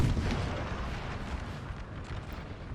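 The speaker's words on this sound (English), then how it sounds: "The artillery's just got to pound Rheinbund out of existence." Napoleon Total War artillery pounds away in a dense rolling rumble of booms and blasts, with no voices.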